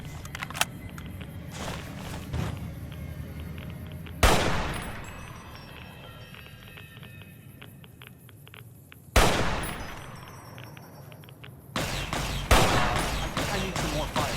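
Gunfire in Fallout New Vegas, several loud sharp shots spaced seconds apart, each ringing out and decaying, over a low background hum, with scattered lighter clicks and someone talking.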